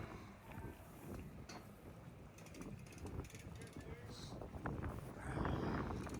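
Ratchet clicks come from wheels being turned under a house on the move outdoors, a rapid mechanical clatter set among wind buffeting and background noise.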